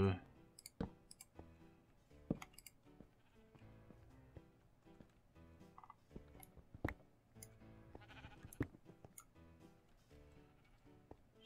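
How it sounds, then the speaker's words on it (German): Sheep bleating in a German-played crafting survival game, faint bleats scattered among frequent sharp clicks and game sounds over several seconds. "Dabei war es nur ein Schaf."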